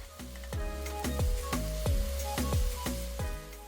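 Tomato sautéing in a pan on a home stove gives a steady, close sizzle with soft recurring stirring scrapes and a faint low hum beneath, and no talking.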